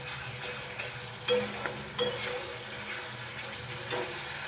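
Ghugni gravy being stirred and sautéed in a pan, a continuous sizzle with scraping strokes and a few sharper knocks of the spoon against the pan, close and steady.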